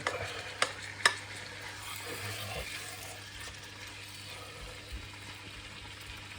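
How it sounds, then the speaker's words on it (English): Food sizzles steadily in a hot pan, a continuous crackling hiss with a couple of sharp clinks early on. "Get the sizzle on"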